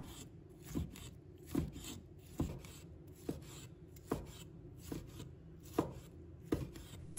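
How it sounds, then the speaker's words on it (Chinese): A knife chops a cored tomato into small pieces on a cutting board, about nine evenly spaced, quiet thuds in a steady rhythm with faint scraping between strikes. "然后切成小块"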